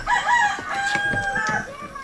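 A rooster crows nearby in a drawn-out call, with other chickens clucking faintly around it.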